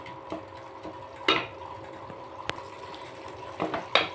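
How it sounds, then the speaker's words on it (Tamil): Tomatoes sauté in a pan while being cooked down for a simple Tamil tomato kadaiyal, with soft sizzling and a few sharp scraping or stirring clicks over several seconds. "இப்படி நல்லா வதங்கணுங்க."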